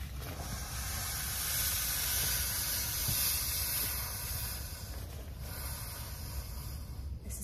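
Air hisses steadily out of a 40-liter travel backpack as it is pressed down, a soft continuous rush at low volume with no talk.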